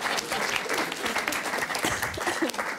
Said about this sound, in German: Ja, Applaus. Das verdient Applaus.